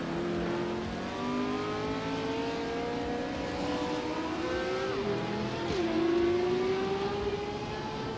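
Several race cars roar through a video game race led by a 1970 Ferrari 512, engines droning loud and steady with rising and falling pitch as cars pass close, a sharp gear shift or pass near the end, no voices.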